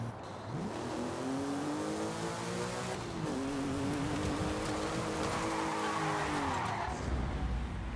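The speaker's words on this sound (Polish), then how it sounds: "Ciągle mi się to auto ślizga." A car in Forza Horizon 5 revs and slides, its engine note climbing and dropping in repeated surges over a continuous hiss of tires and wet road, loud and close, without talk.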